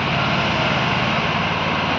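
A Volvo truck engine hums steadily as the truck creeps slowly through a road toll plaza at night, a loud, constant drone close by.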